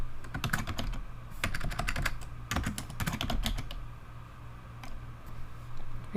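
A book title being typed on a computer keyboard: a steady run of close, crisp key clicks in uneven bursts, with short pauses and a low hum underneath, no talking.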